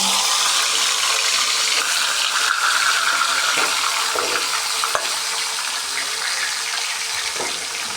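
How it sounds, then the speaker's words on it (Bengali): Pangas fish heads fry in hot oil for a muri ghonto, giving a steady, dense crackling sizzle that runs unbroken from start to finish, loud and close with a few faint clinks. "এখন আমি মাছের মাথাগুলো ভেজে নেব"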